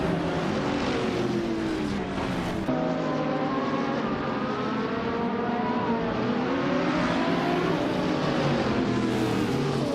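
Race car engines roar at the start of a race at Calabogie Motorsports Park with a 2011 Ferrari 458 GT3 on pole, loud continuous revving with rising and falling pitch as the cars accelerate through gears.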